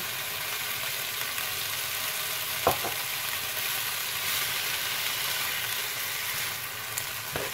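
Beef stir-fry with green beans and pineapple being stirred in a hot pan, a steady low sizzle of frying with one sharp clack of the utensil partway through, close and fairly quiet, no talking.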